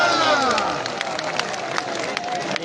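A crowd cheers and claps at a sports match in a stadium, a dense, steady roar of voices and applause heard close throughout, with a whistle-like tone early on.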